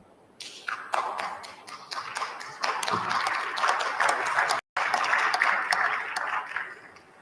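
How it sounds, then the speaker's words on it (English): Applause at a boxing council convention session, a small group clapping close by in an uneven burst that builds, holds for several seconds and briefly cuts out before resuming. "I brought Chico so he can applaud and make some noise."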